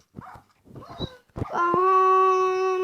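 A dog in Minecraft yelps and whimpers in short bursts, then breaks into a long, steady, sustained howl with a clear pitch, close and fairly loud.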